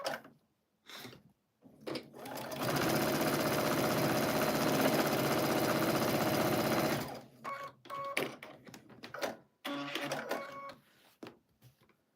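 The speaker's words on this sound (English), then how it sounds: "I'm going to sew again on the right side and on the left side a 1/4 inch." A sewing machine stitches quilt seams in one loud, steady whirring run of about four seconds. Short bursts and clicks from the machine come before and after, with brief handling noises in between.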